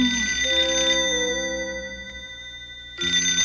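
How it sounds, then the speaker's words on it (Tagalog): A cartoon telephone rings in a bedroom at night, an electronic tonal ring with a descending warble that pauses briefly and then starts again, loud and close with no talk over it. "meron kasing sariling telepono sa kwarto niya si Dekisuge at pagsapit ng gabi"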